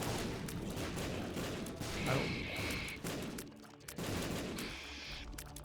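Explosions in The Binding of Isaac: Repentance, a cluster of quick booming blasts and crackling bursts over game music, fairly quiet, several in a row with a short pause between.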